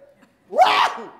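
A single loud, close human sneeze, a sharp sudden burst after a quiet intake of breath, trailing off quickly.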